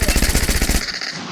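Rapid automatic gunfire in the mobile battle royale game Free Fire, a tight burst of evenly spaced loud shots lasting under a second before cutting off, with no talk during the shots.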